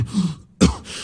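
Two short, harsh coughs from one person, close by, separated by a brief pause.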